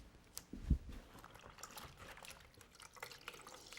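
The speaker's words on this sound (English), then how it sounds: "wring out just a little bit of that water" A wet rag is wrung out while wiping excess glue from glued-up wood panels, giving faint, soft trickles and drips of water with a brief splash early on.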